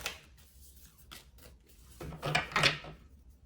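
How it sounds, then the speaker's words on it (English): Tarot cards being shuffled by hand, a few soft riffling and sliding bursts with brief pauses, close and fairly quiet with no talk. "we're gonna get a few more shuffles"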